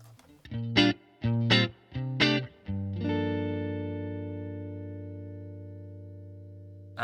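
Electric guitar with single-coil pickups played through a Fender Tone Master Pro amp with distortion, three short muted chord stabs followed by a ringing chord that sustains and slowly fades, alone and fairly close.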